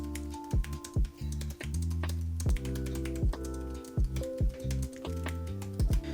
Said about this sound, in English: So this is what it sounds like when I'm typing.